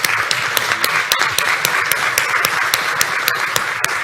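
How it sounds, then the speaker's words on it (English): Applause fills a room after a panel discussion at a Canadian conference. It is steady and fairly loud, with a few sharp, distinct claps standing out rhythmically above the general patter, and no talking. "I think they deserve a round of applause."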